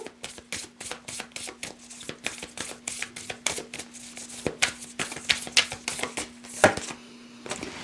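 Oracle cards are shuffled by hand, giving quick repeated riffling flicks and soft slaps in irregular bursts that carry on throughout, close and fairly quiet, under a faint steady hum.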